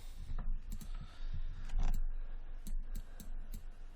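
Computer keyboard keys and a mouse click in quick irregular bursts during 3D modeling work in Maya, close and crisp, with no speech over them.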